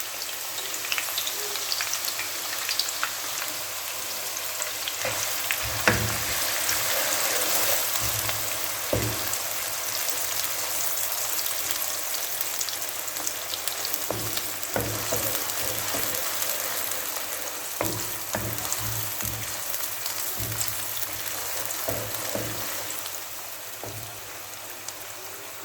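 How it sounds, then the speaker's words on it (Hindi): Chopped onion frying in hot ghee over a medium flame, a steady close sizzle with crackles and occasional stirring clatter throughout, loud and unbroken, with no talk. "मीडियम फ्लेम पे हम इसको हल्का ब्राउन करेंगे प्याज को"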